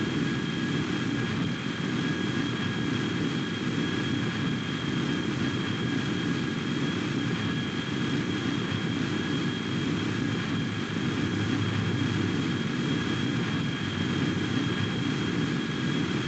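Steady, unbroken engine drone from a VTOL aircraft throttled down and hovering in a flight simulator game, a constant loud roar with a faint high whine running under it for the whole stretch.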